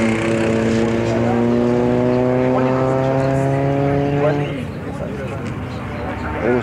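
Neon race cars test at the Autódromo de la Magdalena, a loud sustained engine drone with steady pitch that fades after a few seconds.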